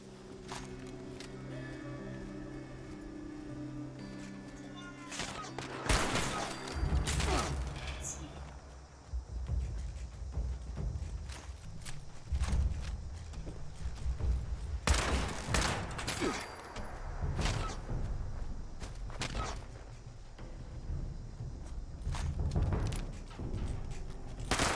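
Guns fire in Fallout 76, with scattered single shots and short volleys, some loud and close, across the span while someone talks over them.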